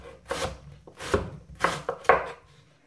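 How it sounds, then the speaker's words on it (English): A knife chops white onion on a board in four or five firm, close strokes with short pauses between them. "Okay, cut them."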